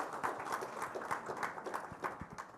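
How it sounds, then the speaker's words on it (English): Audience applause greeting a host arriving at a formal dinner event, a soft, fairly distant patter of many hands clapping throughout. "Big round of applause."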